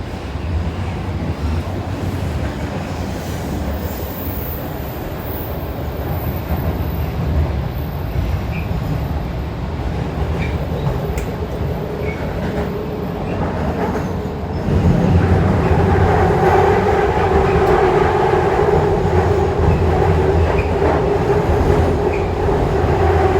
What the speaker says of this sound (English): We are now at the subway.